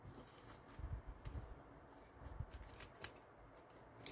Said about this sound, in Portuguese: posso cortar aqui esse excesso de zíper dos dois lados